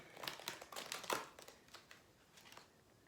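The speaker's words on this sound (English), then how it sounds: "One more shuffle." Oracle cards are shuffled by hand, a quiet run of close papery riffles and slaps in uneven bursts, fading toward the end with no talking.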